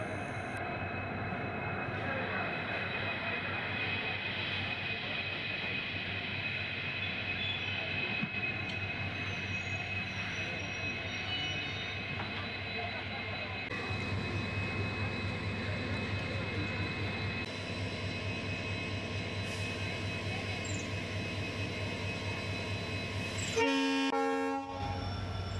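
Thiruvarur–Karaikudi passenger train pulling away from the small single-platform Ottangadu station, with a steady rumbling roll and a horn toot near the end, heard from on board.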